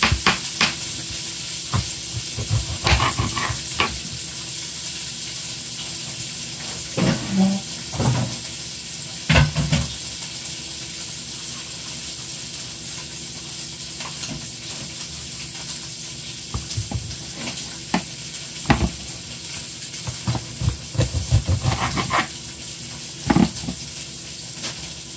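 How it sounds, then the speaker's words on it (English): Peppers and ground turkey fry in a pan with a continuous hissing sizzle, broken by intermittent scrapes and knocks of a utensil stirring the meat, all close and with no talk. "then I'm going to add my my peppers and then my ground turkey"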